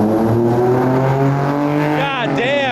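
A tuk-tuk engine in Bangkok, Thailand, revs loud and close with a rising and falling whine, and a voice speaks over it near the end.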